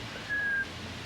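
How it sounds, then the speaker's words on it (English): A single steady whistled tone held for about a third of a second, fairly soft over a constant background hum, with no talking. "You can whistle, can't you?"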